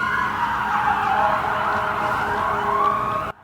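Emergency vehicle sirens wail continuously at a loud, steady level, rising and falling slightly over a low rumble of traffic.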